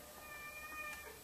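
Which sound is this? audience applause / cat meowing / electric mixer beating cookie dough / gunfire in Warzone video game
cat meowing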